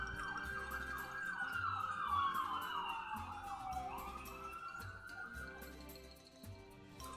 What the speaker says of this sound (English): it's not Jenna's stream without sirens.